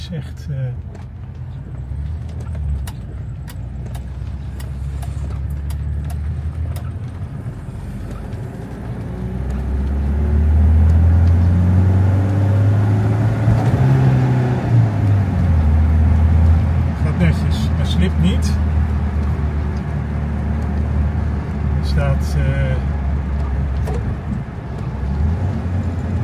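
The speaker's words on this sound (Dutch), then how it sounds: "De DS is weer in perfecte staat en kan terug naar de eigenaar in Frankrijk." A restored Citroën DS drives along, its engine rising to a louder, steady rumble midway and easing off again, with occasional clicks and knocks over the continuous road noise.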